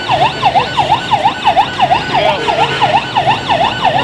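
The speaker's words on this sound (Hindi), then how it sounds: "यहाँ पर पुलिस की गाड़ी आ चुकी है" A police car siren sounds at a crowded bird market, its rapid repeating wail sweeping up and down in a steady rhythm, loud and close with traffic noise beneath.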